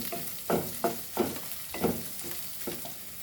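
Dal lentils fry and sizzle in a pan for a raw papaya bhaji, with about six distinct rhythmic stirring scrapes over a soft, steady sizzle, close and fairly quiet.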